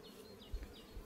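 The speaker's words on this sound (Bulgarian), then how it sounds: "Ето го семейството, виждате колко е силно. Пчелата е много." Honeybees from a strong colony buzz around the open hive, a close, continuous drone with individual bees swooping past, rising and falling in pitch; no talking.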